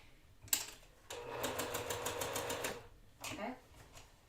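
A sewing machine stitching quilt pieces together along the long edge, one quick run of rapid needle clatter lasting about two seconds followed by a shorter burst, fairly quiet, with a voice talking nearby.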